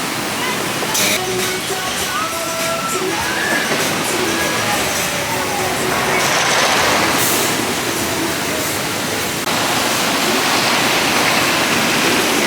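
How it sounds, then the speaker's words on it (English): The splashing water of the final drop on a small log flume ride at Six Flags St. Louis makes a loud, steady rushing roar throughout, with faint voices briefly in the background. "it is a really small log flume. That's the final drop, which looks like about 30 or 40 feet."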